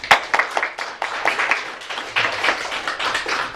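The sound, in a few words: audience applause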